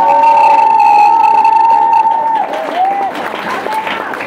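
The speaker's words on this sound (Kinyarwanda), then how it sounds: "Ongera ukomere Imana amashyi menshi cyane" Church congregation clapping at a worship gathering, a loud, sustained wash of applause from many hands, with a steady tone and a voice ringing over it early on, then the clapping thinning and turning more scattered.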